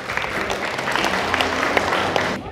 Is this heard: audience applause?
yes